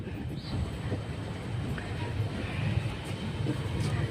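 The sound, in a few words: Venad Express passenger train running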